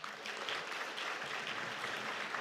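A church audience applauds to congratulate graduates of an eight-week course, a continuous, even patter of many hands clapping at moderate loudness throughout.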